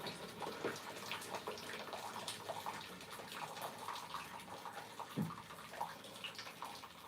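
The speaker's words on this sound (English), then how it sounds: "I'm gonna put in the last kettle of water." Water pours into a kettle in a steady, soft gushing stream that runs on for several seconds, with faint splashes and no voices.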